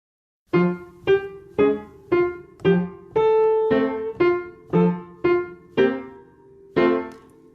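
Piano playing a passage of Maple Leaf Rag with both hands, about a dozen evenly spaced struck chords in a steady bouncing rhythm, close and clear with short decays and no talking.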